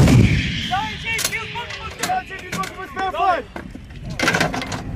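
Artillery guns fire on a bilateral US and Philippine Marine range, with heavy booms and sharp blasts over engine rumble while crew members shout commands and talk throughout.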